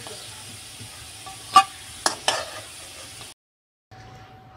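Potatoes fry in oil in a wok, giving a steady sizzling hiss broken by a few sharp scraping clinks of stirring, then a brief silence before the sizzle resumes.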